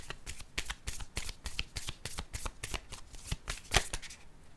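A deck of tarot cards being shuffled close up, a continuous run of crisp riffling slaps and flicks at a steady rhythm, with no talking.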